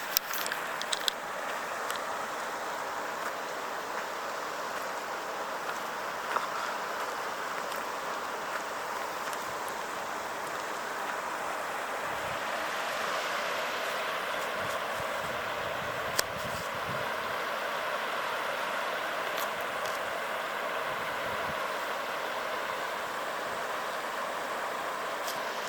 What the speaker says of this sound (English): I'll show you the stream over here